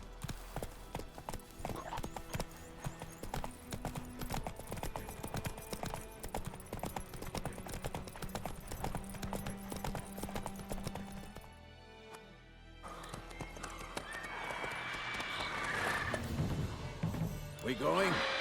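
A horse gallops in The Witcher 3 with rapid, steady hoofbeats close by for about eleven seconds. The hooves drop out briefly, then louder, busier action sounds follow under speech.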